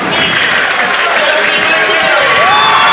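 Fans cheer loudly in a high school basketball gym during a regional semifinal, a dense continuous roar of shouting voices with whistles rising through it, close and sustained.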